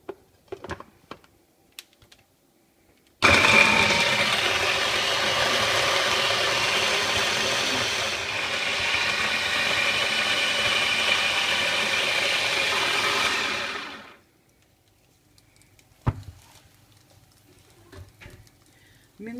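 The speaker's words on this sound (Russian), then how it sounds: "Все это перемалываем блендером." A blender whirs steadily for about eleven seconds, grinding three garlic cloves, a bunch of parsley and a teaspoon of olive oil, then stops abruptly, with faint kitchen clatter before and after.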